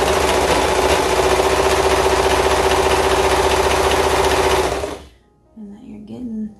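A serger sewing machine stitching a serged edge on fabric, a loud, fast, even mechanical whir held for about five seconds before it stops abruptly, leaving faint room noise and a soft voice.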